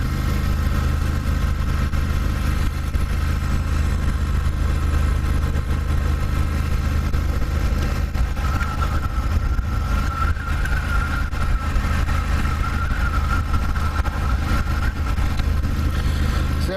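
A Triumph Thruxton R motorcycle engine cruises steadily in third gear at about 40 mph, a continuous low rumbling drone mixed with wind noise, close and constant with no talk.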